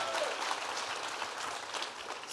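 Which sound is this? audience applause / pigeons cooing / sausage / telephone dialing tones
audience applause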